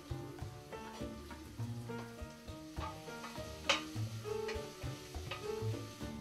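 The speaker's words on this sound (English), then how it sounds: "we're going to add in the sausage and saute that for just a minute" Sausage sautés in a pan and gives a soft, steady sizzle. Intermittent stirring scrapes and light clinks of a utensil against the pan sit close by.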